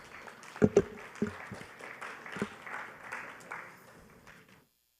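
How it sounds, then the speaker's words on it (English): Scattered applause from a modest conference audience welcoming a speaker at SSB Connect 2024, with a few sharp nearby claps early on, gradually thinning out and fading into silence. "Let us welcome him with a round of applause."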